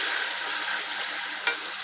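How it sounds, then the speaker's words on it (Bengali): Chicken pieces with ginger and garlic sizzling steadily in a hot pan, a loud close hiss of frying with one brief utensil scrape near the end, no voices. "দেখেন মাংসটা আমার কি সুন্দর ভাজা ভাজা হয়ে গেছে"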